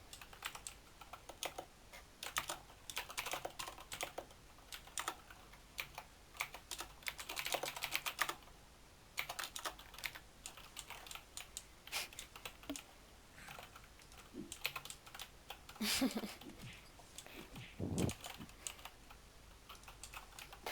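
Typing on a computer keyboard goes on steadily for about twenty seconds, close and clear, in quick irregular bursts of key clicks with brief pauses and a few louder thumps.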